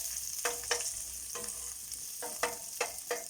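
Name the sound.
garlic and onion frying in a pan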